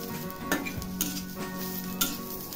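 Dried mackerel chutney ingredients sautéed in a pan on the stove, giving a low steady sizzle with a few light stirring scrapes and clinks, close and fairly quiet with no talk.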